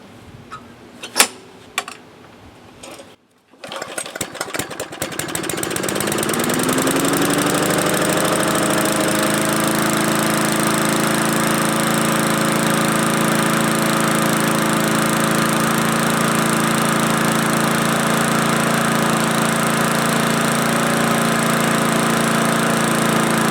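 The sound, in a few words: Murray lawn mower engine starting and running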